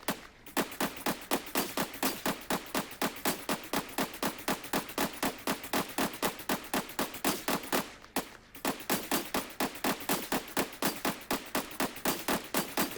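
Rapid assault rifle fire in Valorant aim training, with steady bursts of sharp, loud shots in a fast, regular rhythm and one brief pause partway through.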